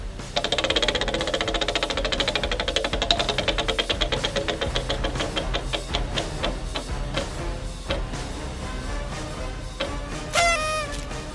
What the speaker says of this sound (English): it's time to spin the wheel and find out what Final Jeopardy is all about